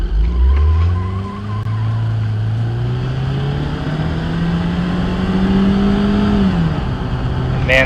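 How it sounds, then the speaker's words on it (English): A 2005-2015 Volkswagen Touran engine in the BeamNG video game accelerates, its pitch climbing steadily for several seconds before dropping sharply at a gear change, loud and close. "let me just stop so we can hear the acceleration"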